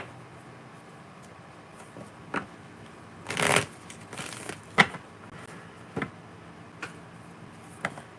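A deck of cards being shuffled close up, with a burst of riffling in the middle and scattered taps and card handling around it, quiet and without talk.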